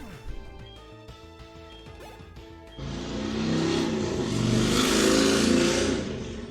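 A motorcycle passes outside, its engine swelling from a distance to a loud, sustained roar in the second half, over the beeps and tones of a handheld game playing in the foreground.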